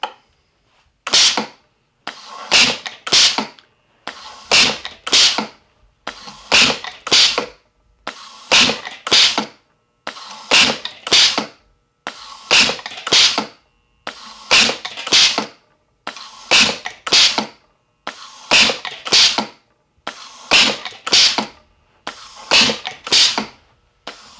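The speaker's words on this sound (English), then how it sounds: "we'll let you see how the bullets are dropping in this bullet bar, and then dropping the cylinder down to where they cut them off" A Dandix automatic bullet sizer pushes bullets through its cylinder in a steady rhythm of sharp mechanical clacks and thumps, repeated in paired strokes about every two seconds, loud and close with no talking.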